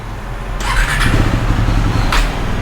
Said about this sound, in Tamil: ஸோ ஸ்டார்ட் பண்ணுறேன் பாருங்க.